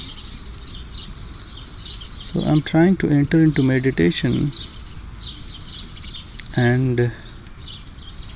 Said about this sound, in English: sitting under a tree, hearing nice bird voices